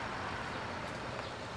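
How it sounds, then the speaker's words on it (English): A steady road-vehicle rumble fills the clip, a car or truck going by at moderate distance with continuous broadband noise and no voices. "I can hear a car."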